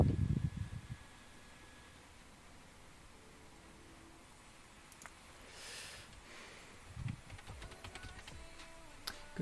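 Quiet, sparse keystrokes on a computer keyboard at a desk, faint clicks scattered over a steady low hiss, with occasional soft breathing or rustle bursts near the microphone.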